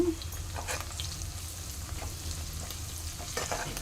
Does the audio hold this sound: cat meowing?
no